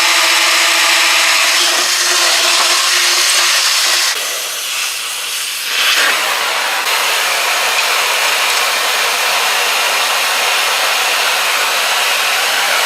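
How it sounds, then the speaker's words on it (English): A power drill bores a hole through a rusty body panel on a junkyard car under repair, its loud, steady whirring hiss running continuously, easing briefly midway before resuming at full strength. "I'm going to go ahead and drill another hole right here"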